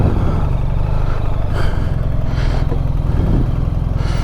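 BMW R1300 GS motorcycle with the standard exhaust, ridden at low speed with about 2,500 miles on it; a loud, steady engine drone with wind rush and a slightly tinny, whiny edge, no talking.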